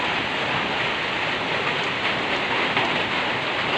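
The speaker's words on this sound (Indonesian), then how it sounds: "Hujan gitu teman-teman." Steady, dense rain drums on a corrugated zinc (seng) roof, a loud, even hiss that fills the whole stretch without pause and with no voices over it.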